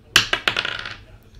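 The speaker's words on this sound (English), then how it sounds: "let's go and roll the dice" Dice are rolled for a random team mixer draw: a few sharp clicks land in quick succession, then a short clattering rattle settles and fades within about a second.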